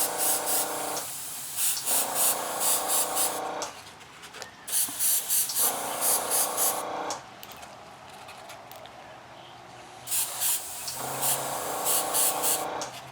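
An airbrush sprays paint onto a model car body, mist-coating the mirrors in repeated short bursts of close, steady hiss separated by brief pauses.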